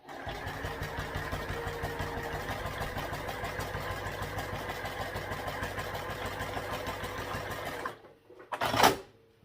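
A sewing machine runs steadily while top stitching a seam on a zippered tote bag, a continuous close mechanical whir for about eight seconds that then stops, followed by a brief clatter.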